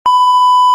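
A mobile phone gives a single clean electronic beep, a steady pure tone lasting just under a second, loud and alone with no talk around it.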